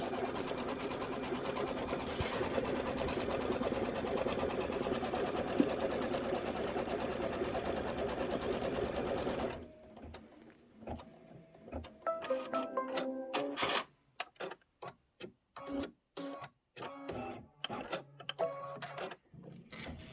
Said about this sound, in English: And then we're going to do our quilting stitch in that same color.